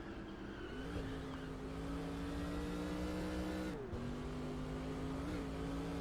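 A race car engine in NASCAR Racing 2003 drones steadily and loud, its pitch holding level with brief dips and shifts as the car lifts and gets back on the throttle, with no one speaking.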